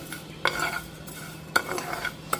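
Vermicelli stirs in a little hot oil with a soft, low sizzle, broken by three sharp scrapes or clinks of a spoon against the pan.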